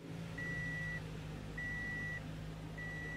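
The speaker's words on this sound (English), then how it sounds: "that little sound that you hear when you start the car up is usually just the oil pressure checking" A 2012 Toyota Camry with a 2.5L I4 engine idles after starting, its low steady hum overlaid by a thin electronic beep tone that repeats three times at even intervals.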